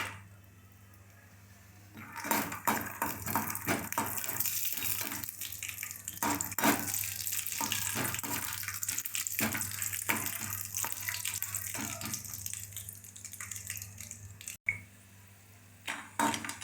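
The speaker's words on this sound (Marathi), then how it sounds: "तेल गरम आहे आपण शेंगदाणे तळून घेतो" Peanuts fry in hot oil for kanda poha, starting after a quiet lead-in with a burst of crackling and bubbling that holds steady and fairly loud, with popping textures throughout before a brief dip near the end.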